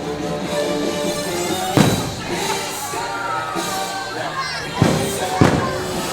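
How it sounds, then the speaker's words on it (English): Fireworks crack and boom at a distance at a rainy Disney park, with a few sharper bursts standing out over a steady crowd murmur and nearby talking. "I hear the fireworks still going off."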